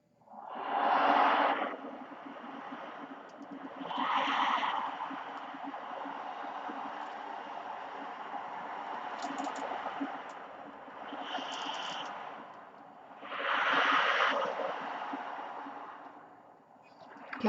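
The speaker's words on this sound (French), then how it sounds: "Au son des vagues" Ocean waves surge and wash in rounded swells about every three to four seconds, with a steady hiss of surf filling the gaps between the broader crashes.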